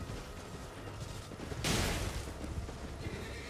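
A horse neighs in the Elden Ring video game during a mounted horseman fight, a loud whinny bursting out midway over a steady din of combat and ambient game sound.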